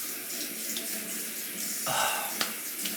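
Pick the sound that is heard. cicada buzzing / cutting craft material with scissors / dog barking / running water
running water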